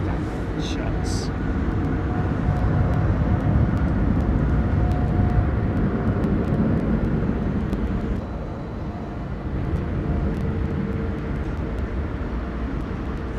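A nine-year-old Lufthansa Airbus A320 in classic livery taxis at London Heathrow, a steady broadband engine rumble and whine holding close and loud throughout, with a brief dip near the end and people talking over it.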